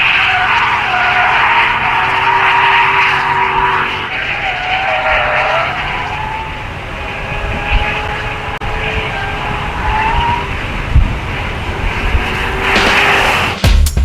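Jaguar 5.0 XK-RS coupe lapping a race track, its V8 roaring loud and close as the pitch rises and falls through gear changes, with brief tyre squeal and no talking.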